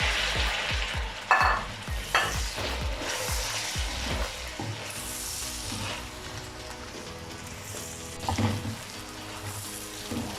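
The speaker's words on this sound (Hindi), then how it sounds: "अब इसमें आलू डाल देंगे और इसे 3 से 4 मिनट के लिए भून लेंगे।" Potatoes frying with spices in a pan for a cauliflower and potato dish, a steady sizzle with a run of rhythmic spatula scrapes and taps early on, then quieter frying, close and with no talk.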